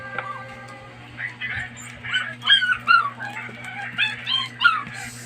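A dog whimpers and yips in high, wavering cries, several short bursts over a steady low electrical hum, close by, with no clear barking.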